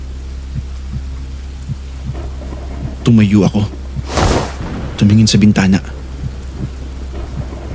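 Heavy rain pours steadily, with one loud crack of thunder breaking through midway, while a narrator speaks over the storm.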